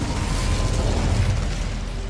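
Incendio fire spell cast in the video game Hogwarts Legacy, a dense whooshing burst of magical fire with a low rumbling roar that holds steady for about two seconds.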